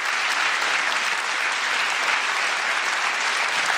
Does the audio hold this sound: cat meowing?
no